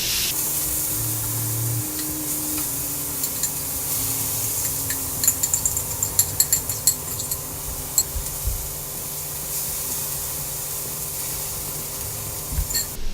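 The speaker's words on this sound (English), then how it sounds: "We're gonna hit it with a little non-stick spray." Non-stick cooking spray hisses onto a hot grill before potatoes go on, a steady broad spray with scattered small crackles and ticks, close and fairly loud, with no talking.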